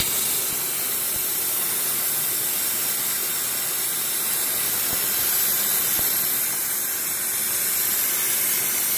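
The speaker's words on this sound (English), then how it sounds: "we have to open up our bleeders on the caliper and suck the rest of the fluid out" A steady, airy hiss of suction runs throughout as leftover brake fluid is drawn out of opened caliper bleeders on a Yamaha R1M, continuous and close with no talking.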